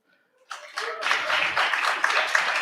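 A crowd breaks into applause after a brief quiet moment, a dense burst of clapping that stays steady to the end.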